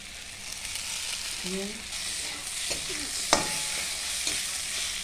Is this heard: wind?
no